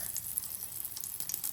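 Potato chops go one by one into hot refined oil in a kadai, raising a steady, fairly quiet hiss of frying that crackles on with no talking.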